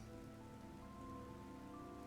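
Rain patters steadily in the video game Vintage Story, a soft, faint continuous wash alone with no voices.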